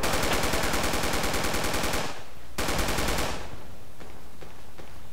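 Sustained automatic gunfire in Project Reality, a long rapid stream of loud, close shots that cuts off, then resumes in another burst before fading into scattered distant reports.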